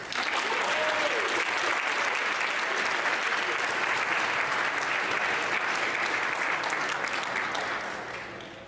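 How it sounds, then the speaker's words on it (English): A large crowd at a high school graduation ceremony applauds steadily and loudly for several seconds before the clapping begins to fade. "can we give another round of applause"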